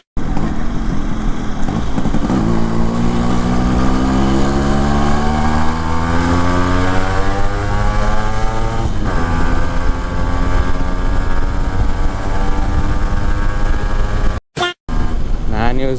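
A Yamaha RX135 two-stroke motorcycle is ridden with its silencer note prominent: a loud, close engine buzz that climbs in pitch through the gears, dips and revs up again, briefly cutting out near the end.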